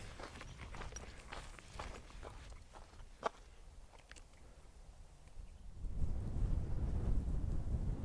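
Footsteps crunch along a mountain trail on the Pacific Crest Trail, then wind gusts swell into a low rumbling roar against the microphone for the last few seconds.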